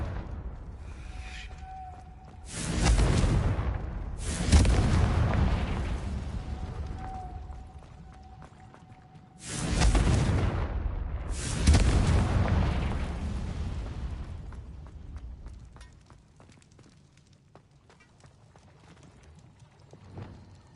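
Confringo fire spell explosions in the video game Hogwarts Legacy: four loud booming blasts in two pairs, each rolling off into a fading rumble, over quiet ambient game sound.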